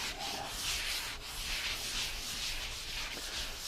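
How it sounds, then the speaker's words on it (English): A 320-grit scuff pad scuffs a wood finish before glazing, making a steady close hiss of abrasive rubbing that carries on without pause from start to end. "I'm just taking a 320 scuff pad here and I'm going to scuff it"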